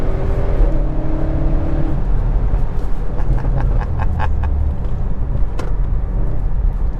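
A 605-horsepower Audi RS6 accelerates hard, heard from inside the car as a loud, continuous engine roar that rises in pitch through the gears, with road rush around it and no talking.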